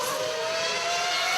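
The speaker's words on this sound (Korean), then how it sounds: "곧 고막을 찢는 듯한 F1 머신의 엔진 소리가 경주장을 메우기 시작했습니다." Formula One race car engines scream at a circuit in a loud, sustained high-pitched roar with a slowly rising whine, no voices heard.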